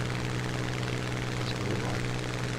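Steady, droning propeller-engine hum of a Soviet warplane going down in the War Thunder combat flight game, a continuous even roar with no breaks.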